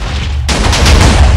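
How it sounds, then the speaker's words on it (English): A house blowing up in the video game Minecraft, a sudden loud blast that starts partway through and rolls on as a dense, sustained roar of explosions and crumbling blocks. "I'm gonna watch the house explode."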